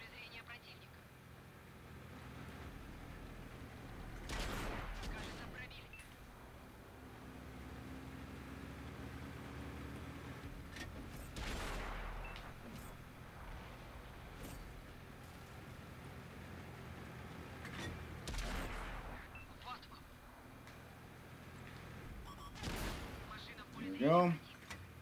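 Several separate heavy gunshot blasts boom out at spaced intervals over a low rumble, with a person talking between and over them.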